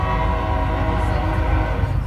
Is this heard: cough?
no